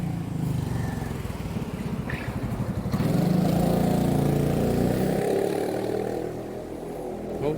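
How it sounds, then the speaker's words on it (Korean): A loud motorcycle passes on the road, its engine growl swelling to a peak mid-clip and then fading, heard from a moving vehicle. "저 오토바이 마구라 저런 거 신고 안 되나? 너무 시끄럽다"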